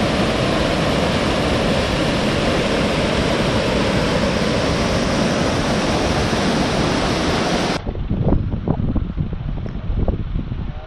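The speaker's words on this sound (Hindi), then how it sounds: "दोस्तों मेरे पीछे झरना है और सामने घाटी है" Mountain waterfall beside the route from Killar to Chamba near Sach Pass, a loud, continuous, close roar of crashing water that drops away abruptly to a quieter rushing flow with scattered knocks.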